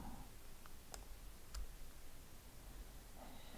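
A computer mouse clicks faintly while dragging in CorelDraw: two quiet, sharp clicks about half a second apart over a soft background hiss.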